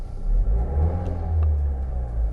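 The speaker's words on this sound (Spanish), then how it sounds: "ahora cuando pulso el acelerador" A car's engine revs up as the accelerator is pressed during an OBD scanner diagnostic, a deep, steady rumble that swells slightly and holds, heard close with no talking.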